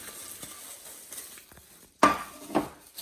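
Chili, green peas and dalmoth are stirred together for a spicy Nepali-style chatpate, with soft scraping and clinking of a spoon against the bowl and two sharper clattering knocks near the end.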